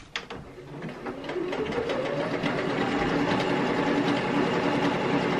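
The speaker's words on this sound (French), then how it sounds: "je vais faire un overlock vraiment au bord du bord" An overlock sewing machine runs steadily, seaming the edge of a swimsuit strap: a loud, continuous mechanical whir close by, starting after a brief click and holding at an even level throughout.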